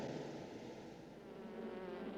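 Bees buzz as a faint, steady, low drone that carries through the whole stretch with no voices.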